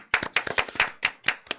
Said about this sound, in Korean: 박수 쳐요, 빨리.